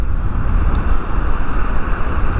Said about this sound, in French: Ah c'est la voiture derrière je crois.